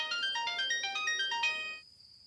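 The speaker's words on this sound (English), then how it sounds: "The phone's ringing." A phone ringtone trills in a quick repeating melodic pattern for under two seconds, fairly close and clear, then cuts off abruptly leaving a faint lingering tone.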